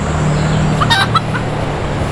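Chickens on a rural homestead give a few brief clucks over a steady low background hum.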